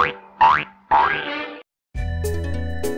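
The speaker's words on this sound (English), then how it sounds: "A boy named Gerald McBoingboing didn't speak with words, but with sound effects like this" Cartoon boing sound effects of the Gerald McBoing-Boing kind, three springy wobbling boings in quick succession, a short pause, then a brassy honking toot, loud and alone.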